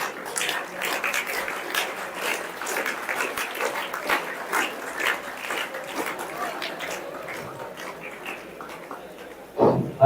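Audience applause at a campus farewell and prize distribution program, a sustained patter of many hands clapping at moderate volume for several seconds, ending with a sharper sound at the close.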